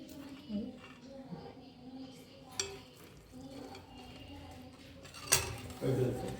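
A spoon stirs khoa, cardamom powder and food colour together in a bowl, giving soft scraping and occasional clinks against the rim, with a sharper knock near the end; a voice talks over the mixing.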